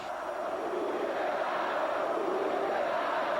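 Football fans chant in protest against former player Ricardinho, a dense, distant crowd roar of massed voices that holds steady throughout.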